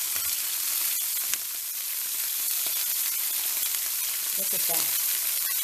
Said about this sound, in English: I'll finish browning these